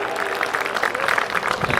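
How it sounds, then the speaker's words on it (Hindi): Listeners at a Teej festival poetry recital in Sirsaganj clap together in a brief burst of crowd applause, fairly loud and continuous, with some murmuring voices mixed in. "एक बार आकाश भर तालियां बजा करके भगत सिंह को प्रणाम और चेतना के साथ बैठिएगा।"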